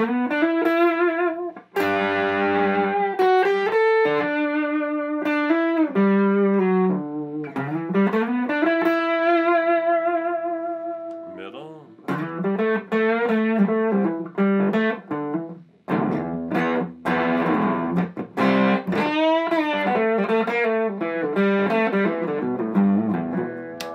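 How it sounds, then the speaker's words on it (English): Distorted electric guitar with humbucking pickups playing melodic lead lines with sustained, bending notes and brief gaps between phrases, loud and close. "here's some leads with the distortion"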